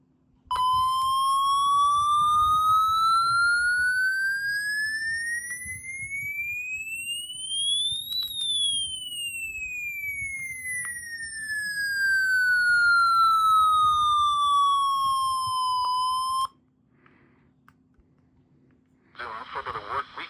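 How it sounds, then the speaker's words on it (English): A Midland HH50 weather radio sounds a siren alert, a single pure tone sweeping slowly up and then back down, loud and steady, followed by a short burst of static. "And here's a siren."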